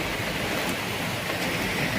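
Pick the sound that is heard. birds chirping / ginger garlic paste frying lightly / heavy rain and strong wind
heavy rain and strong wind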